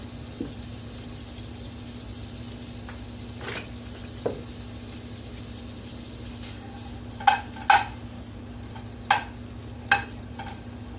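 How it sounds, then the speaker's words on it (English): A small amount of chorizo frying in a skillet, giving a steady low sizzle with a few sharp clinks and scrapes of a spoon stirring it near the end; no one speaks. "So 1 ounce of chorizo is going into the skillet."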